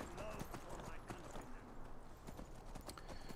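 Horse hooves clip-clop steadily in the Skyrim video game, a continuous rhythmic patter under a dense wash of ambient game sound, with faint speech-like noise mixed in.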